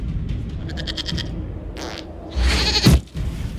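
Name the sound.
goat bleating in Dragon Age: Inquisition video game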